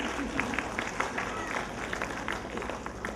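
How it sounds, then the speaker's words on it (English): An audience at a kindergarten prize ceremony claps steadily in a dense, rhythmic patter, with a voice talking over the applause. "Keep clapping for her."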